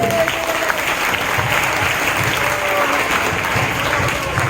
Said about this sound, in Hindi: उन मेधावियों का स्वागत जोरदार तालियों के साथ होना चाहिए।